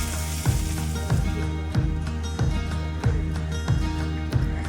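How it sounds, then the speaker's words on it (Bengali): Chopped onions go into hot oil with dried red chillies, setting off a steady sizzle over a low, regular background pulse with periodic clicks roughly every half second, close by, no voices. "এর মধ্যে দিয়ে দেওয়া হবে কুচিয়ে রাখা পেঁয়াজ।"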